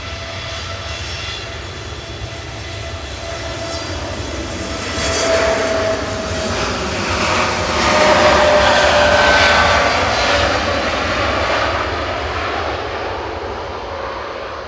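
A Boeing 787-9 jet airliner departing Manchester Airport for Palma roars steadily and loudly for the whole stretch, swelling midway as it passes, with a broad engine rumble and no voices.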